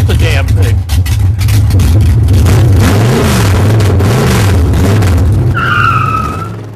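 A brand new custom Porsche fitted with a twin Paxton supercharged motor revs hard and skids, the loud engine drone wavering up and down with tire noise, close by, before a high squeal near the end.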